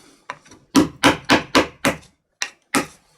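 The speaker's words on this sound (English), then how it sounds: "Hammering won't take long at all here." A hammer strikes in a quick run of seven sharp, close knocks during Japanese printmaking, then after a short pause two more single blows land.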